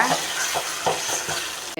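Chicken and onions sizzle and crackle in a pan while a utensil stirs through them in a few scraping strokes, close up.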